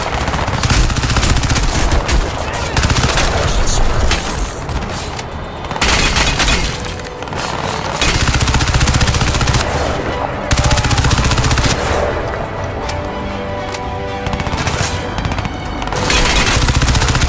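Gunfire from a weapon in the video game Crysis 2 Remastered, loud sustained automatic bursts and booming shots, continuous with short gaps, dense and close throughout.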